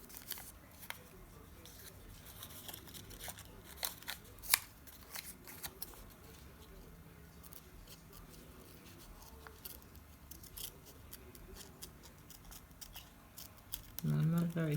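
Scissors snipping paper while fussy-cutting a piece for a junk journal: scattered short crisp snips and rustles, close and fairly quiet, with a louder handling sound at the end.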